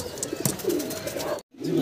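Pigeons at a pigeon farm coo in soft, repeated throaty calls close by, with a short dropout near the end and no talk.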